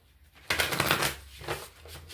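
A deck of tarot cards shuffled once, a brisk riffling rush up close, then a softer second flutter as the cards settle.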